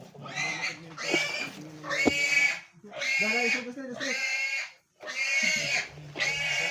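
A pig oinks and grunts in repeated short bursts with brief pauses, close and fairly loud, while people talk over and between the calls.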